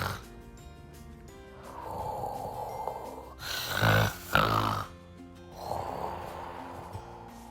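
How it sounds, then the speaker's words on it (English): A sleeping fox snores loudly, a performed snore with slow drawn-out rasping inhales and a harsh snorting burst in the middle, repeated in steady cycles. "the fearless Fox fell fast asleep and began snoring ever so loudly"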